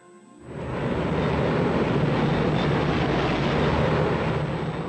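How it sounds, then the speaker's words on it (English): Engines of a Luftwaffe transport aircraft in flight make a steady, loud, broadband droning roar that starts abruptly and holds constant throughout. "Within a month, transport aircraft from Hitler's new Luftwaffe had begun an airlift"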